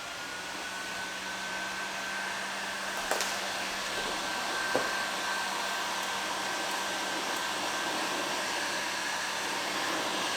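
A heat gun blows steadily to warm and soften vinyl wrap for removal, making a continuous, even whooshing hum with a faint tonal whine and no talk.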